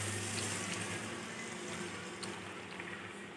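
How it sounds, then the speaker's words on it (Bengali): Milk poured into carrot halwa in a pan, a steady wash of liquid pouring and sizzling that fades slightly toward the end, close and continuous with no talk. "দুধ অ্যাড করে দেব।"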